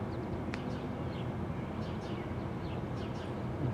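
Faint, scattered chirps of house sparrows sounding at a distance over a steady low rumble of background noise, on a quiet college campus.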